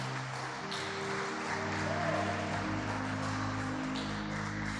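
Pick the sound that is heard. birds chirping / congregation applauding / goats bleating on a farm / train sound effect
congregation applauding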